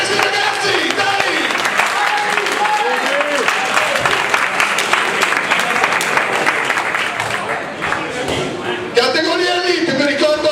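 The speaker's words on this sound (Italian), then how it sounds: "un applauso a questi ragazzi" Audience at an amateur boxing match applauds the fighters with sustained, dense clapping from a crowd, while voices can be heard talking over it throughout.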